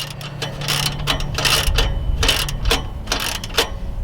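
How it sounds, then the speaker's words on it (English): Ratchet with a 17mm socket tightening an exhaust clamp on a third-generation Toyota Tacoma, quick bursts of ratcheting clicks between short pauses, close and loud against a low background hum. "get your 17mm socket and start to tighten up your clamp"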